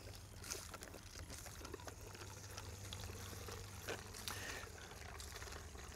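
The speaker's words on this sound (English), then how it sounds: "to actually perform the integrity test, you'll need to pump about a third of a bottle of water." An MSR Guardian purifier pumps water into a bottle, producing a faint, steady trickle and splash of water with soft rhythmic pumping clicks, fairly quiet and with no talking.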